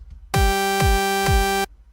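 An FL Studio 3x OSC saw synth holds a single bright, buzzy note while three kick drum thumps land at an even pace beneath it, both loud and upfront, then cut off together.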